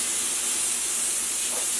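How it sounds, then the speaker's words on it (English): A powder coating spray gun hisses steadily and loudly in a continuous airy spray, with no breaks and no talking. "This gun sprays very well actually."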